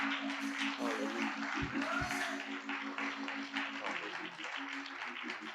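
A church congregation claps hands in a dense, continuous wash of applause during a worship service, blended with a sustained organ or keyboard tone and some vocal sounds throughout.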